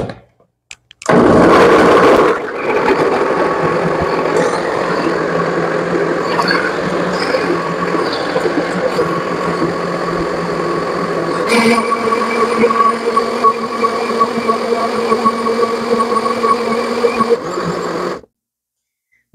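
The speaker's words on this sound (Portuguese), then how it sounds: "Vou botar no liquidificador e vou ligar." A kitchen blender whirs as it purées coconut for homemade coconut milk. The motor starts with a loud surge, then settles into a steady, close grind with a slight pitch shift partway through, and it cuts off abruptly at the end.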